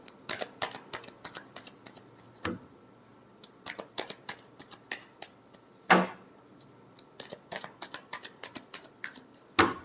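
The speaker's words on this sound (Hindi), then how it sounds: "last shuffle" Tarot cards being shuffled, heard as bursts of quick, crisp riffles and flutters separated by short pauses, with a few sharper taps as the deck is squared, close and clear.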